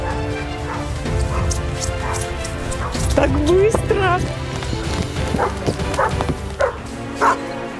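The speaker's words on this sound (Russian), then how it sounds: "О, он лает." Search and rescue dog barking during a rescue drill in snow at an abandoned site, several sharp barks at close range mixed with people talking excitedly.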